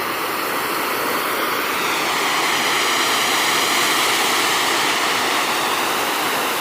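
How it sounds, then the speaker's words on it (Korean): Rain-swollen stream pouring down like a waterfall at a mountain campsite in heavy rain, a loud, steady, broadband rush of water with no pauses, close and constant throughout. "폭포처럼 지금 수량이 많아서 어, 폭포처럼 지금 물이 흘러내리고 있습니다"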